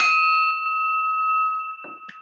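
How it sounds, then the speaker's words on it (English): A single bell is struck once to open a Rotary Club meeting on Zoom, ringing clear and sustained before fading, followed by a few brief soft sounds. "I'll go ahead and ring the bell and we'll get started"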